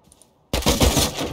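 Gunfire in the survival game Rust: after half a second of near silence, a loud, sudden burst of rapid shots erupts and keeps rattling for nearly a second, close and dense with no talk over it.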